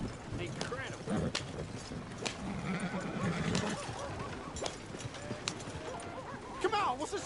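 Horse hooves clip-clop on the ground near stables in a PS4 video game. The rhythmic hoofbeats run throughout, with occasional snorts, under ongoing talk.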